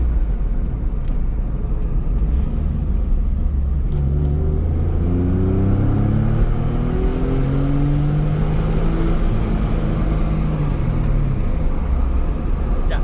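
A Porsche 911 engine with a catalytic converter delete idles with a deep exhaust burble, then revs up and settles back several times, loud and close.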